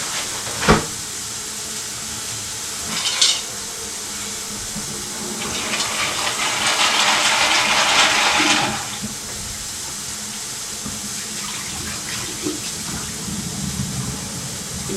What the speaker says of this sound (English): Just washing out the pasta.